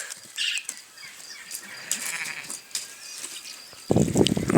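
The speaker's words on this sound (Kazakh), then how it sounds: "Екі күндік еркек лақ." A two-day-old male goat kid bleats in short, thin cries, fairly close, with a louder burst of bleating at the end over quiet farm background.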